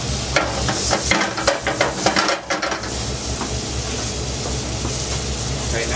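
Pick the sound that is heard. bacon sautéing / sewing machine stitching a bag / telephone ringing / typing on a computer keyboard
bacon sautéing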